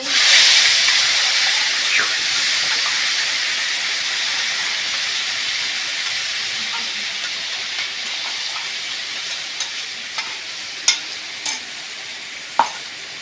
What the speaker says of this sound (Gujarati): ટામેટા પ્યુરી નાખીશું.